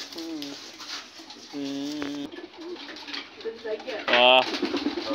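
Pigeons coo in several throaty, rolling bursts spaced a second or so apart, close by, with soft background noise between calls.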